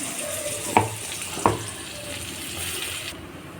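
A coconut, onion and fennel paste sautés in a pan with a steady soft sizzle, and two sharp utensil scrapes or knocks land about a second apart. No one speaks.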